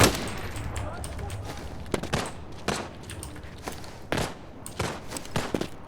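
Gunfire outside in the Arena Breakout Infinite video game, repeated bursts and single shots cracking at a moderate distance, irregular and echoing, over quiet background ambience.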